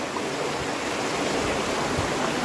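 Stream water from the Napittachora waterfall near Sitakunda rushes in a steady, dense wash, close and continuous with no break or voices.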